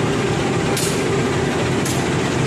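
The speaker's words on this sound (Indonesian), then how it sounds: "sekarang saya ada di dekat lokomotif CC2018348" Railway locomotive CC2018348 standing at a station, giving a steady, loud broadband engine rumble that runs throughout, with two short hissing bursts like air release.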